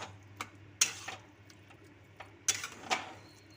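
Utensil stirring sugar dissolved in milk in a kadai, soft scraping strokes with a few sharper clinks against the metal pan, quiet and close with steady low background hum.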